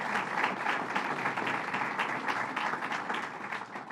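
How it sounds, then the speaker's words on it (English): An audience at Governor Cuomo's Albany International Airport announcement applauds the commissioner with steady, dense clapping from many people, moderately loud and continuous throughout. "let's give the commissioner a great round of applause for really a great piece of work"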